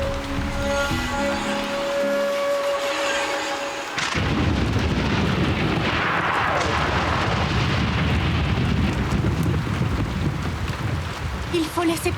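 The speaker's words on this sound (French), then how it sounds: "Il faut laisser passer l'orage" A thunderstorm rumbles in a Yakari cartoon: after a tonal musical passage, a heavy sustained crash of thunder rolls in and keeps roaring loudly with broad rumbling noise.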